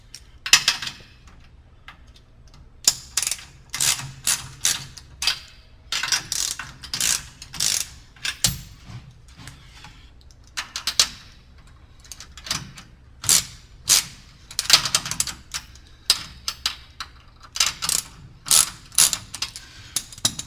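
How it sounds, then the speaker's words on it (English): Ratchet wrench loosening 9/16 bolts on the pillow block bearings of a StairMaster StepMill, repeated clicking strokes in short bursts with pauses between, close and fairly loud. "you need to loosen up the 2 9/16 bolts here and the 2 9/16 bolts below there on the pillow block bearings"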